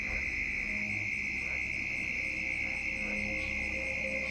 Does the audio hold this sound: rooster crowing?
no